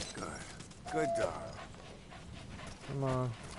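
Dog in the video game Metal Gear Solid V, giving short whimpering and barking sounds in two brief bursts over game ambience, with a voice talking nearby.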